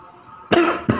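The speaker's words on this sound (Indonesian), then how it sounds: "Batuk." Cough from an animated Plotagon cartoon character: two sharp, loud coughs in close succession, the second shorter, after a stretch of quiet.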